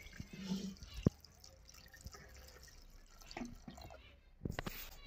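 Warm milk is poured into jaggery syrup for chitoi pitha, giving faint, close splashes and a few soft drips over a quiet background.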